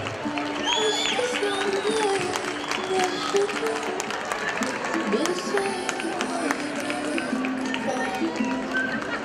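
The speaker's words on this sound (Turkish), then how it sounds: "Bursa'dan daha kıymetli ve daha büyük alkış istiyorlar." A crowd of fans in Bursa claps and cheers at a meet-and-greet, a dense continuous wash of applause with voices and chatter mixed through it.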